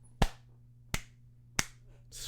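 Four slow, evenly spaced claps ring out sharply and close by, each separated by a pause of well over half a second, against a quiet background hum.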